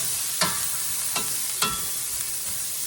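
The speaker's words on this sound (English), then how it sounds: "I'm going to stir them around and all that." Vegetables sizzle steadily in an oiled pan while a utensil stirs them in three distinct scraping strokes, loud and close, with no voices.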